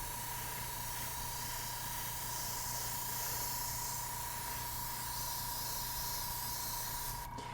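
Airbrush or spray gun held on a constant trigger, spraying paint onto scale model parts: a steady, unbroken hiss at even loudness for several seconds, close to the microphone, with a faint underlying hum and a brief click at the very end.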